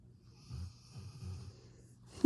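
A dog snoring softly at close range, a few slow low rumbling breaths in an irregular rhythm, ending with a brief louder snort.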